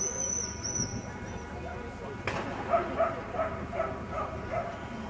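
A working spaniel gun dog out hunting gives a run of short yips and whimpers, several brief repeated calls at moderate distance under background rustle and occasional voices.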